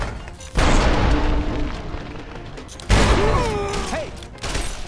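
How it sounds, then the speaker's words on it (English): Time bombs going off in Fallout: New Vegas, two heavy booming blasts a couple of seconds apart, each with a broad rumbling tail and scattered debris and crackle afterward, followed by a smaller thud near the end. "I try littering the place with bombs and ducking for cover behind a desk."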